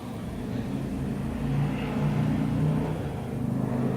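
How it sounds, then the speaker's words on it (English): A loud motorcycle engine drones past outdoors, a low steady rumble that swells slightly in the middle and holds for several seconds, with no voices. "there was a loud motor of, I'm pretty sure, a motorcycle"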